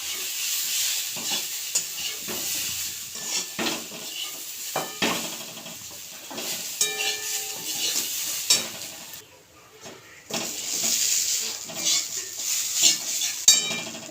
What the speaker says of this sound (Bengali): সবটা মশলার সঙ্গে মিক্স করে দেবো।